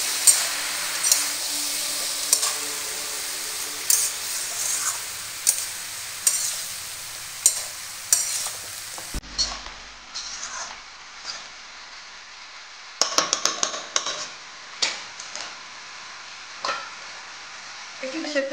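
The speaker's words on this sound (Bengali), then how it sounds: "ভালো করে নেড়ে দেবো।" Stirring turmeric and dried chili powder into fish head and pui greens frying in a pan, with repeated scraping stir strokes over a steady sizzle and a brief pause midway.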